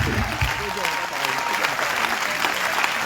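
A church congregation at a healing revival service applauds, with sustained clapping and some cheering that carries on steadily while a voice speaks over it.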